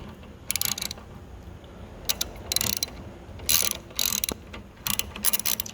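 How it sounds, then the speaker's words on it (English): Ratchet wrench loosening the crank arm bolt on a spin bike, heard as several separate bursts of quick, crisp clicking, fairly close, with short pauses between strokes and no talk. "What you want to do now is just go ahead and loosen that bolt."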